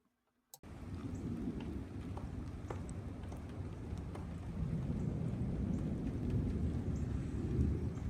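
An evening thunderstorm rolls over a campground at Garner State Park, with a dense, steady wash of rain and deep rumbling thunder that swells slightly louder toward the end, with no voices present.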